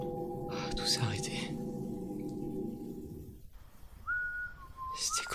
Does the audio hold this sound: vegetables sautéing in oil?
no